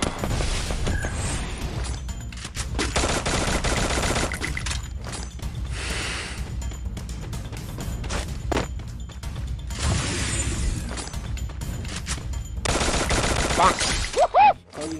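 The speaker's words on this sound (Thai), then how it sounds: "เขาหยุดยิงเฉยๆแล้วก็กระโดดยิงหัวไปซะ" Rapid bursts of gunfire from the battle royale video game Free Fire, loud and close, come in dense volleys separated by brief lulls, with crashing and mechanical clatter mixed in and no talk over them.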